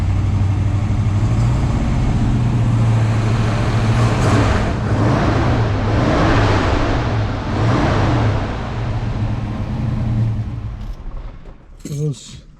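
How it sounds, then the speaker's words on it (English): A 1969 Camaro Z/28 with a DZ 302 V8, not yet fully warm, idles with a deep, steady rumble and rises in a few gentle revs before settling, close and loud throughout. "Rev it up just a little bit here."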